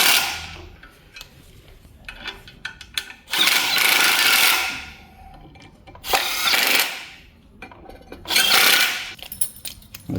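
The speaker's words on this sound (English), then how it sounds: "Just take out the slack in the bolts with the gun." An air impact gun runs bolts in on an Opel Manta i200 during restoration, with three loud, rattling bursts of a second or two each, separated by quieter pauses of shop background.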